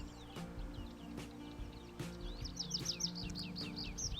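Songbird singing in a highland meadow on Haçkalı Baba plateau near Trabzon, where a tree pipit and a mountain nightingale are present: a fast run of bright, repeated chirps builds up toward the end over a steady low outdoor rumble, with no talking.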